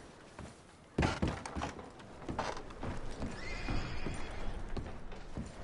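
Horses neigh and whinny loudly at close range while being packed, with hoof clops and dull thunks of gear scattered through the few seconds.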